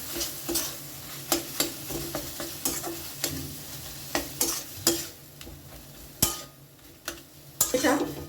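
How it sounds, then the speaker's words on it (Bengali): Chicken samosa filling with salt, chili powder and amchur powder is stirred in a pan: repeated scraping clinks of a utensil against metal sound close by over a low background sizzle. "একটু লঙ্কার গুঁড়ো আর দিচ্ছি সামান্য একটু আমচুর পাউডার এরপরে খুব ভালো করে এটাকে আমি মিশিয়ে নেবো"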